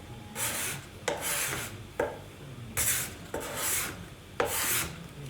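A cabinet scraper is being sharpened with six or so long, even rasping strokes in a steady rhythm, close and clear with no talking.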